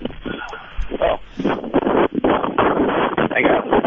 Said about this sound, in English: the wind is killing me